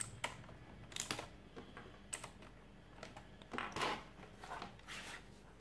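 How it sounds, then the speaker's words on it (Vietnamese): Typing on an Aula KB890 mechanical keyboard with blue switches, a series of sharp, close clicky keystrokes in irregular bursts, fairly quiet overall and without speech. "Đây là switch, blue switch của bàn phím cơ Aula. Gõ kêu cũng khá là to như các bạn đã nghe thấy."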